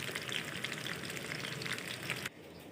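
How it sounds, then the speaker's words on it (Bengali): Koi fish rubbed with salt and a little turmeric fry lightly in oil with a dense, steady close-up sizzle and crackle that stops abruptly near the end, with no talking. "ধুয়ে লবণ আর অল্প একটু হলুদ দিয়ে মেখে তারপর এখন হালকা করে ভেজে নিব"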